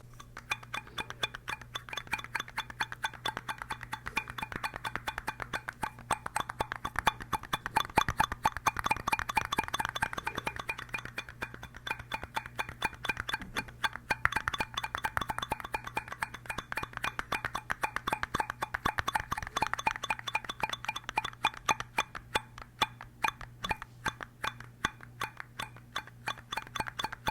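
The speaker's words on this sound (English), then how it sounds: "some sort of tapping, maybe" Steady light tapping and clinking on small plastic cups, a fast continuous patter of little hard clicks with no voices.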